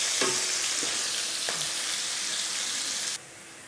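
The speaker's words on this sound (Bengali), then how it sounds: "এখন এটাকে একটু হালকা আঁচে ভেজে নিচ্ছি যতক্ষণ না কাঁচা গন্ধটা বের হয়ে যাচ্ছে" Koi fish fries over low heat in oil, a steady broadband sizzle running close and loud with a few soft stirring knocks, then dropping abruptly quieter near the end.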